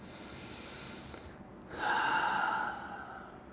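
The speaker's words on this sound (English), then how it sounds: "Take a deep breath." A single deep breath close to the mic, a long, airy inhale followed after a short pause by a louder, breathy exhale, quiet and intimate.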